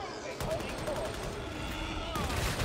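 Gunfire in the Warhammer 40k: Darktide video game, rapid repeated shots in sustained bursts at moderate level that stop briefly and then resume, with voices mixed in.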